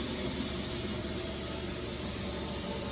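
A media blasting cabinet pulls abrasive media through its hose while blasting former US Army HMMWV parts, giving a loud, steady, unbroken hissing rush close by with no talking.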